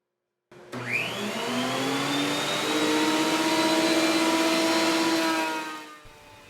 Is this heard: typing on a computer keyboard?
no